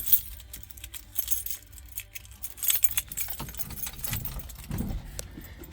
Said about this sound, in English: Keys. I'm sitting on them.